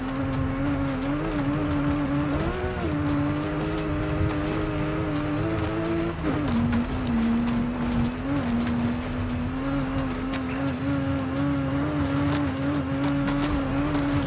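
A car in the racing game Forza Horizon 5 drives with a sustained engine drone that rises and falls, and the tires squeal through turns, loud and continuous throughout.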